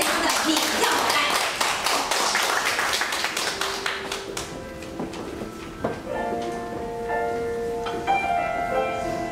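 An audience gives a burst of applause to welcome a Filipino migrant worker singer at a Taipei County singing contest press conference, with dense, close clapping that fades after a few seconds as music begins.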